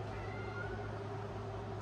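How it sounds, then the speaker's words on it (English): Indoor house cat meowing, a faint, drawn-out cry buried in steady room hum and broadband noise, no talking. "That's either my cat or Marvin"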